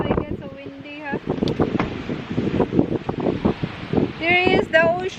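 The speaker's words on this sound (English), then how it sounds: "so windy" Strong wind buffets the microphone by the California ocean, a rough, gusting rumble that rises and falls under people talking close to the mic.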